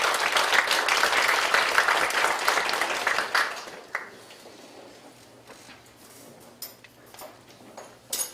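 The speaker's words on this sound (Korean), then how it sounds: "우리 박수로 한번 환영하겠습니다" Applause from a church congregation during a Sunday service, loud and dense for about four seconds, then fading to scattered claps and quiet room noise.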